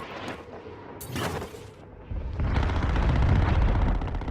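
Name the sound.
AK rifle gunfire in the video game Call of Duty Warzone Mobile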